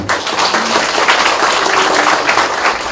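A crowd at a press conference held to declare support for a Paju mayoral candidate breaks into loud, sustained applause. The clapping stays steady throughout, with faint voices beneath it.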